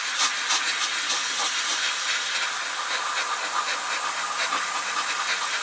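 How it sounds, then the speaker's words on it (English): An airbrush sprays Vallejo chipping medium in a continuous close, bright hiss with slight flutter, held steady throughout. "Now, first of all, I'm gonna keep the airbrush way too close."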